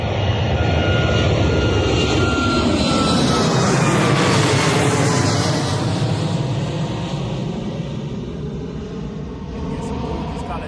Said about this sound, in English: Another nice, beautiful D-rated takeoff there from that TUI Boeing